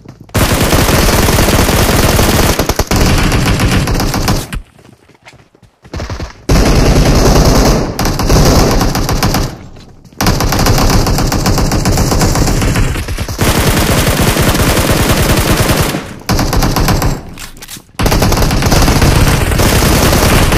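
Loud, sustained automatic gunfire from the battle royale video game PUBG fills nearly the whole stretch in dense bursts, broken only by a few short pauses.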